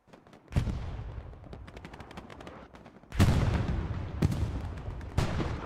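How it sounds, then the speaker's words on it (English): Tank and anti-tank gun fire in Hell Let Loose during a competitive match: four separate loud, booming shots, each ringing out and decaying into rumbling echo, spaced a second or more apart. "It looks like a tank took a shot from an AT gun, but does end up taking out the AT gun"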